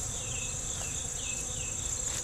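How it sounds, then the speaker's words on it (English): Honeybees robbing a strong hive buzz in a steady, dense drone, with individual bees whining past close by. "Look, bees are trying to get in here and rob, and they're falling off."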